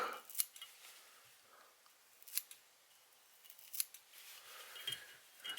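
Sharp scissor snips trimming the materials on a Bubble Pup bass popper fly, a few quiet, isolated cuts spaced about a second or more apart in a calm room.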